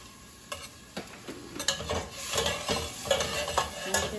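Dried buttered beef is stirred in a pan, a series of close scraping and clinking strokes over a faint sizzle, growing busier toward the end.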